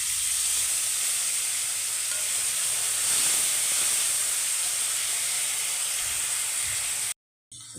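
Tomato frying in a pan for fish curry gives a steady, loud sizzle with a bright hiss. It runs unbroken for about seven seconds and then cuts off abruptly.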